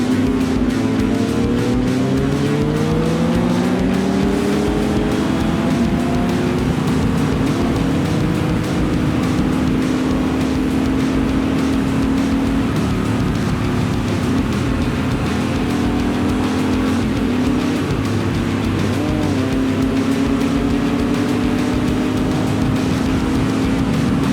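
A CFMOTO 800 MT-X motorcycle races a sidecar outfit on a long racetrack, its engine droning loud and continuous with rising and falling pitch through gear changes, buffeted by steady wind roar.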